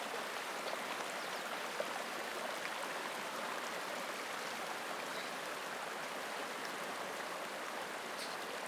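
Fast-flowing river water in Wind River Country rushes in a steady, dense broadband roar, constant and fairly close, with no talking over it.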